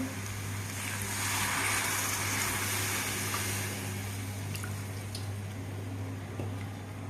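Soft sizzling and bubbling from a pan of onions and chili powder after water is added for egg curry, with a faint steady hum underneath and a few light clicks, quiet and close.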